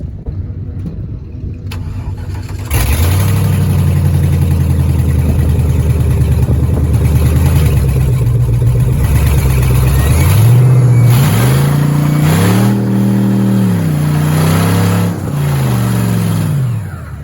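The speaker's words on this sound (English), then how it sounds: "Well, it's a bit dark, but let's do a burnout." A loud engine roars and revs repeatedly during a burnout on a dolly, pitch rising and falling in surges, sustained and close with no talking.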